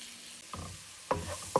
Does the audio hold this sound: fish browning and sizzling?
yes